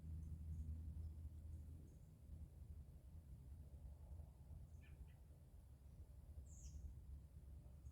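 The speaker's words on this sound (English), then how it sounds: "Those are robins." Robins calling in the evening woods on a small-game hunt: a few brief, faint chirps over a steady low rumble.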